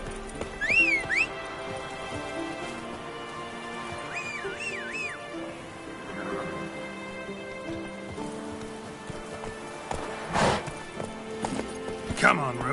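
Roach, a horse in The Witcher 3, clip-clopping hooves moving along at a steady rhythm, with a whinny near the start and a voice speaking over it amid rain and ambient game sounds.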